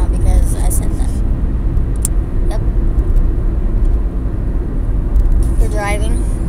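Car driving along a road, a loud steady low rumble of engine and road noise filling the whole stretch, with people talking over it inside the vehicle.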